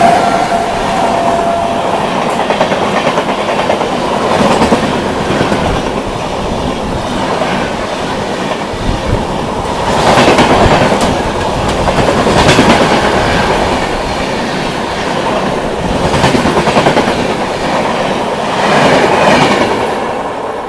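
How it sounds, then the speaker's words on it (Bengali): An Indian Railways superfast express, the Dibrugarh–Kanyakumari Vivek Express, overtakes a stopped local train at a platform on a Kolkata–Puri run. Its loud, steady rumble carries continuous wheel clatter and rail noise that swells and recedes for about twenty seconds, with no talk. "22540 ডিব্রুগড় থেকে কন্যাকুমারী বিবেক এক্সপ্রেস আমাদের এখন আপাতত ওভারটেক করে দিল"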